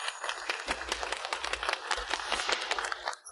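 Dense applause from an audience welcoming the head of an international chamber of commerce fills the room, continuous crackling claps over a low rumble that hold steady before cutting off abruptly.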